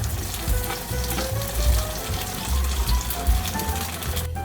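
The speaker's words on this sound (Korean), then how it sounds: "기름을 두른 팬에 양파가 투명해질 때까지 볶아주세요" Onions sauté in an oiled pan while cooking a pork belly rose pasta, a steady close sizzle with stirring scrapes and no voices.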